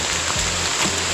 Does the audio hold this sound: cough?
no